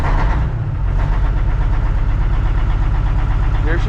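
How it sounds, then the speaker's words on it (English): Truck engine idling up, a loud, close diesel-like rumble with a steady throbbing knock and a brief rev bump early on, running continuously without speech. "let's idle her up"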